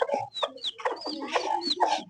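Hen clucking close by in a rapid, irregular series of short clucks and squawks, with higher peeping calls mixed in, loud and free of talk.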